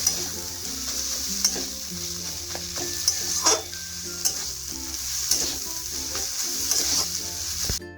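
Potato is pressed and mixed with prawns in a frying pan using a spatula, for prawn chop filling: quiet continuous sizzle under repeated scrapes and taps at irregular intervals, no talking.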